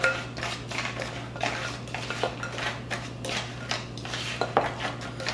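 Pecans are stirred in syrup and sugar in a bowl, a steady clatter of a utensil scraping and clinking against the dish, close and continuous over a constant low hum, with no voices.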